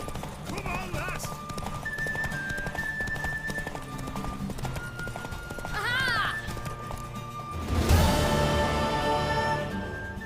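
Hoofbeats of a galloping horse racing in The Witcher 3 game, a steady clip-clop running throughout with a whinny near the end, under game music and a shouted line of dialogue.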